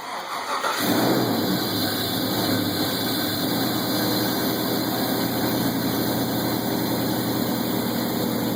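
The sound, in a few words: first start of junkyard 4.8 engine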